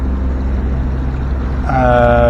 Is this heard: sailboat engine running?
yes